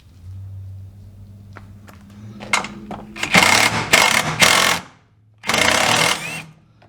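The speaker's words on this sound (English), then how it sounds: "So you'll just get your little impact." Impact wrench removing door bolts on a Can-Am Maverick X3, firing in several loud, rattling bursts after faint clicks and low background hum, with a short gap between the final bursts.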